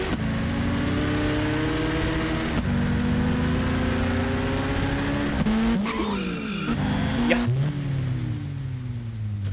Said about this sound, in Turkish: Araba sesleri de çok güzel ha.